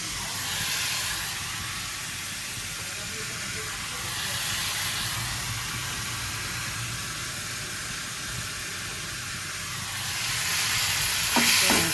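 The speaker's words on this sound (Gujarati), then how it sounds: "ચણાની દાળ પણ નાખી દઈએ એને." Soaked chana dal frying and being stirred in hot oil, a steady close sizzle and hiss with soft scraping throughout, swelling slightly in loudness at a few points.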